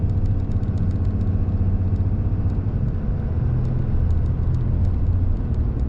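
Steady, loud low diesel drone from the cab of a 2019-2020 Ram 2500 with a 6.7 Cummins engine and custom tuning, pulling up a slight hill at light throttle, with a continuous rumble and faint ticking above it.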